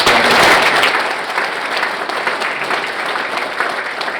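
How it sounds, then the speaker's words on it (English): A crowd at a State of the Town event applauds town council members, a dense, steady wash of clapping that starts loud and settles slightly lower, sustained throughout with no voices standing out. "Let's give them another round of applause."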